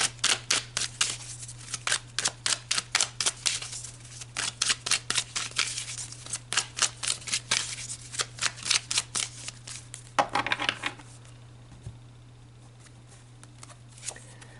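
Tarot deck shuffled in a long, steady series of rapid card flicks, close and even in rhythm for about ten seconds, then a few softer handling sounds as the shuffling stops, with a faint constant hum underneath.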